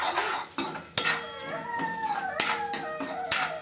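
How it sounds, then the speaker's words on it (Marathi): Peas being stirred in oil in a pan for baingan bharta, a metal spoon scraping and clanking against the pan in irregular knocks over a soft sizzle, heard close. "वाटाणे टाकून घेऊया आपण आणि याला चांगलं फिरून घेऊया"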